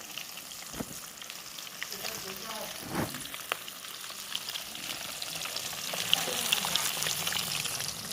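Close, continuous sizzling and spitting of fish frying in hot oil on a home cooking stove, a dense hiss that swells slightly toward the end, with a few soft knocks and no clear speech.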